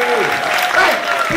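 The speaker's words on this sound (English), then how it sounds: "keep that applause going for Eddie over here as well." A studio audience claps steadily and loudly at a live comedy variety show, a dense continuous round of applause with a few voices mixed in.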